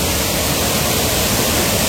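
Water pours down a waterfall along a wet, slippery Sahyadri ghat trail, making a constant close rushing hiss that stays even and unbroken for the whole stretch.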